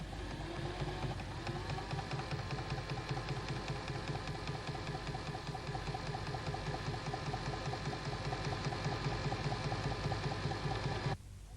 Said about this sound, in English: keeping the same tension on the elastic at the back as on the front, sew first half